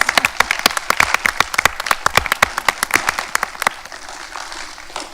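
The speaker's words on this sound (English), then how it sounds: "give all these students a round of applause" Sharp, crisp applause from a modest crowd, individual claps distinct and fairly close, tapering off into quiet toward the end.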